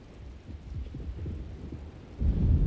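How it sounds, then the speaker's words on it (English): An approaching thunderstorm in the horror video game Alone in the Dark rumbles low and steady under patter, then swells into a louder rolling boom near the end, with no voices. "Looks like a storm's coming."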